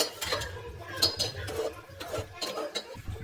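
Vegetables for vegetarian khichuri being stirred in a pot, a spoon scraping and clinking against metal in a steady run of close scrapes with a few sharper clinks.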